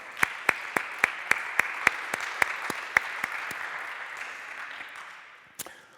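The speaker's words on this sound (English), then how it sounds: "So let's give a round of applause for everyone." Audience applause at a tech conference talk, a dense wash of many hands with a few sharp louder claps on top, holding steady for about five seconds before fading out near the end.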